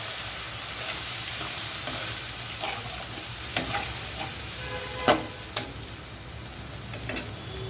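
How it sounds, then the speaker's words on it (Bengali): Spice paste for a lentil curry sizzles steadily in hot oil in a pan while a spoon stirs it, with a few sharp scraping clicks scattered through the constant frying hiss and no talking. "এখন এক কাপ পানি দিয়ে মশলাটাকে একটু ভালো করে কষিয়ে নেব"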